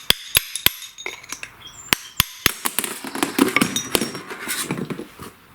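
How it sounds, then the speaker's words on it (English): Sharp metallic hammer blows on a pin punch driving out a bearing from a mower deck spindle, a few spaced strikes at first then a faster run of ringing taps, close and loud with no talk. "And again, I will just go in with my pin punch here."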